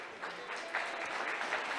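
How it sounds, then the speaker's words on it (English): A crowd at a girls' high school basketball game in a gym claps in a warm round of applause, a soft, even patter of many hands heard from a distance. "she gets a nice round of applause from the Lebanon faithful"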